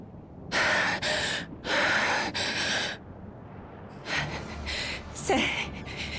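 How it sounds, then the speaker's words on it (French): Out-of-breath gasping and panting from a character in the video game Final Fantasy XIV: Dawntrail, in several loud breathy bursts with short pauses between them and a soft game soundscape underneath. "Tu m'as l'air bien essoufflé."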